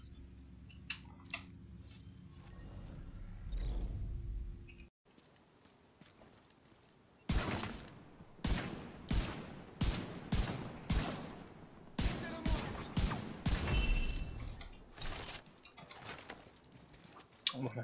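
Gunfire in The Division 2, a shooter game: a lone rumbling shot early, then after a quiet stretch a run of sharp, evenly spaced loud reports with short gaps, a brief burst of rapid fire, and more single shots.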